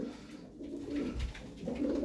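Crested milk-white tumbler pigeons coo in a coop, a low, soft rolling murmur that swells twice across the moment, near and steady with no talk over it.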